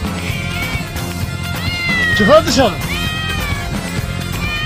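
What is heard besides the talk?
cat meowing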